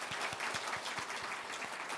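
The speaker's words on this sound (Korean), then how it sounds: "인사할 때 축복의 박수 부탁드리겠습니다." Church congregation applauding during a scholarship award presentation at a Sunday service, a steady dense wash of many hands clapping with a few rhythmic beats, continuous and fairly loud throughout.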